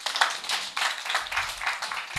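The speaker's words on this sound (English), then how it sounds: "A hand clap, ladies." Audience hand clap for women at a bank branch gathering, a short, close burst of many hands clapping with slightly uneven swells, no talk over it.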